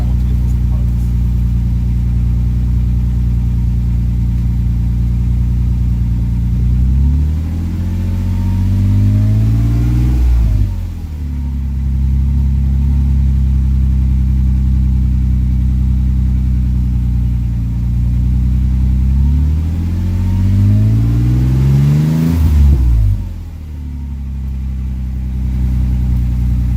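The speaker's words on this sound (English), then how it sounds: "That's the exhaust without a tailpipe." Toyota Tacoma exhaust fitted with a Magnaflow round 18 by 6 muffler and no tailpipe: a deep idle rumble swells into two long revs that climb and drop back, loud and close, with no talk.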